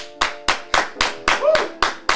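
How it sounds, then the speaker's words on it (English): Applause for a guest at the close of a podcast episode: steady, evenly spaced hand claps ring out loud and close at a brisk, regular rhythm, with no talking over them. "Let's give him another round of applause, please."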